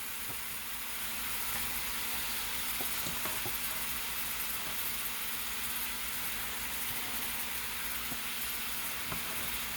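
Shrimp go into a pan on low heat for a light stir-fry, producing a steady, close hiss of sizzling that runs evenly throughout, with no talk.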